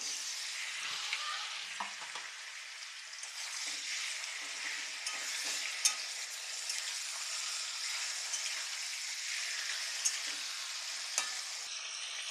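Whole garam masala (cardamom, cloves and cinnamon) frying in oil, a steady bright sizzle running throughout with scattered pops and a few stirring scrapes, close by and with no voices.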